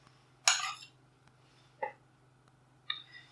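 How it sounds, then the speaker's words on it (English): Spoons scraping and clinking against each other while scooping thick muffin batter, three separate sharp metallic taps spread apart over quiet background hum. "make sure to get all of it off with the other spoon"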